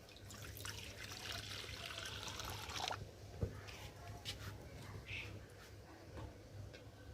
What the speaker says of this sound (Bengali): কড়াইয়ে জল দিয়ে দেব।